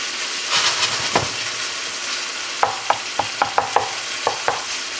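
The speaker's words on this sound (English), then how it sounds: "All right, let's get to mashing this" Chile topping meat mashed and browned in a pan gives a steady frying sizzle, with a run of sharp spatula or masher knocks against the pan near the end.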